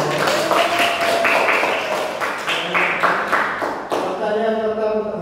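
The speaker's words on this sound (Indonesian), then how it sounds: "yuk tepuk tangan dulu buat" A seventh-grade class claps after a student presentation: a dense burst of many hands applauding together, fairly close and steady, thinning and fading toward the end.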